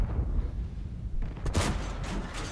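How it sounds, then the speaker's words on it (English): Tank cannon fire in World of Tanks, heavy booming shots erupting close and loud over a continuous low rumble of engines and battle noise, with a couple of sharp blasts in quick succession. "Both these T-57s are trying to fire up now and they're getting shot up themselves"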